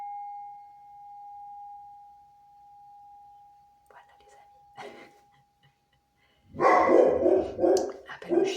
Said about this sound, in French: Le chien qui se réveille aussi